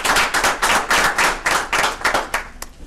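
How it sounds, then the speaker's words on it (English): An audience at a 2012 chamber of commerce candidates forum applauds loudly and close by, steady clapping swelling and dipping in pulses before trailing off. "Let's give them a round of applause."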